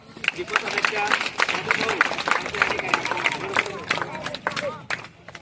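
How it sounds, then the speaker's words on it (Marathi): Audience clapping at a birthday celebration event, a burst of scattered hand claps mixed with crowd murmur and voices across the clip, moderately close. "त्यांच्या नावाने जोरदार टाळ्या वाजवा"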